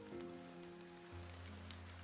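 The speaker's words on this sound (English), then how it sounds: "The endless patter of rain on the street creates a wordless song." Rain pattering on a street in the video game Behind the Frame, a soft continuous patter under sustained musical tones, faint and without voices.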